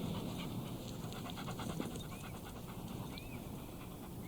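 A dog pants steadily and rapidly at close range, a continuous rhythmic breathy huffing with no talk over it.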